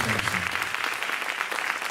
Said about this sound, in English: One more round of applause for these ladies.